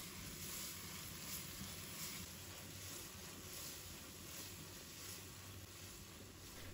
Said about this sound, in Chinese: 快速的翻炒均匀，把花菜炒入味